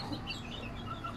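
Backyard chickens cluck softly and briefly at a distance, with no talking.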